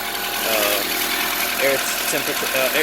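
A steady, close hum from an Acura RSX engine idling while coolant bleeds after a thermostat failure. The air box is disconnected. Faint voices and some tonal sounds come in over the engine noise.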